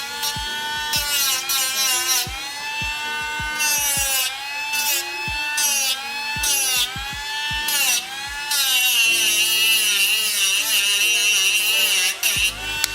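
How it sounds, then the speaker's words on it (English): A small rotary power tool grinds rust down on a Harley Sportster, whining close by in a high buzzing pitch that rises and falls, broken by repeated brief clicks and pauses as it touches the metal. "I'm just kind of grinding that rust down"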